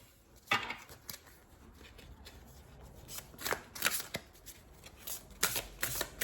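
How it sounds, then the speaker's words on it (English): Playing cards are shuffled by hand, soft riffling bursts and flicks coming in irregular clusters, close but quiet, with no speech. "I'm going to grab some other cards here."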